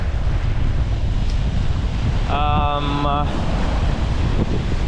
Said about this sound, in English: the waves are too big